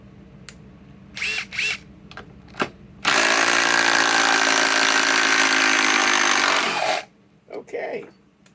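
A Metabo WH18DC cordless impact wrench whirs loudly and continuously for about four seconds while removing a bolt, with brief bursts before it and a man's speech around it.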